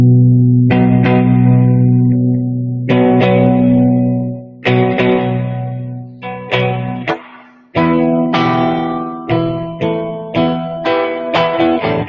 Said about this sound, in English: think I gotta put a little distortion on this one